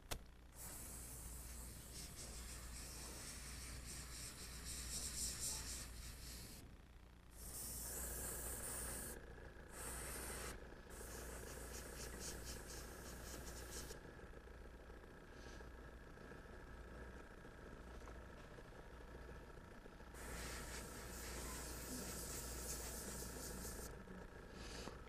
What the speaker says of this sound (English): Spray that black.